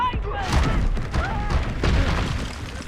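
Confringo spell blasts from Hogwarts Legacy boom and crash in quick succession, loud and close, amid combat noise and shouted voices.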